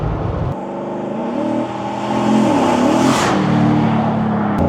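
The exhaust of a Range Rover Classic with a swapped 6.2 LS V8 revs up with a deep throbbing roar, rising in pitch and loudness, then holds a strong, rumbling growl close by.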